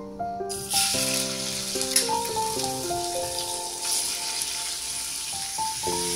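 Chopped prawns hit hot oil in a pan with a sudden loud sizzle that settles into continuous frying, close up, while a melodic tune plays over it and no one speaks.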